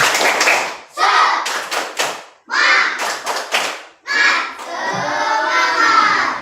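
A school class doing a rhythmic spirit clap: loud bursts of many hands clapping in patterned groups with brief pauses, children's voices mixed in, filling the room.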